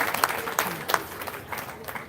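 Scattered audience applause at a poetry reading at the Calabash Literary Festival, a soft, uneven patter of clapping with a few sharper claps standing out, fairly distant and brief.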